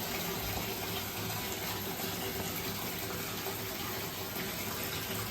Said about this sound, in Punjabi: ਚੱਲਦਾ ਪਾਣੀ